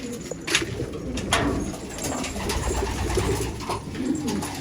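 Pigeons in a coop coo steadily and close up, with overlapping soft throaty calls and a few brief rustles of movement throughout.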